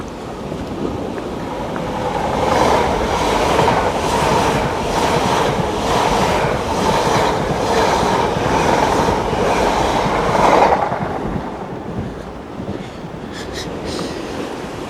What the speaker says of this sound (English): The almighty power of these trains, eh?